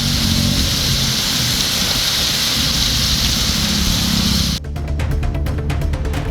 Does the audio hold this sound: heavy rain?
yes